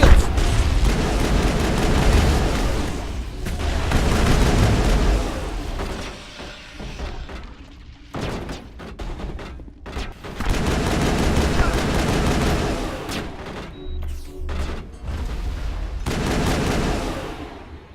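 Firefight gunfire in Mass Effect, with loud bursts of automatic fire and booms arriving in waves and short pauses between them, and shouted voices mixed in at times.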